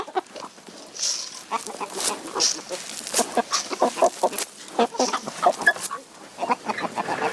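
Hens cluck and squawk around a backyard chicken coop, a busy chorus of close, overlapping calls in irregular bursts, with faint human voices mixed in.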